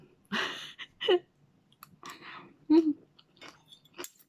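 Someone chews a Thai green mango salad close to the mic in short, moist bursts separated by pauses, with occasional soft breaths and mouth clicks.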